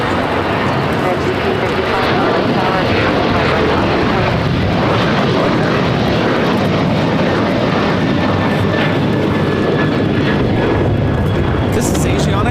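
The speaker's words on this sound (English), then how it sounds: "Asiana Airlines 201 taking off to Seoul on the A380" An Asiana Airlines A380 taking off from LAX toward Seoul gives a steady, loud broadband engine roar throughout, with a faint rising whine and talk over it.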